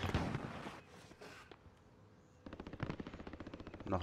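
Call of Duty: Warzone gunfire: a few heavy shots at first, then after a lull a rapid automatic burst rattles on steadily to the end.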